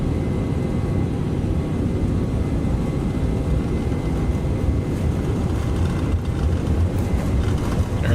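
Airbus A321 engines at takeoff power in X-Plane 12, a steady, loud, broadband roar with a deep rumbling low end that holds constant throughout and has no talking over it.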